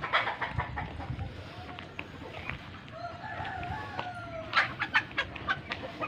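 Rhode Island hens cluck on a farm with other fowl, several nearby birds giving short repeated clucks and calls in irregular bursts, with louder clusters toward the end.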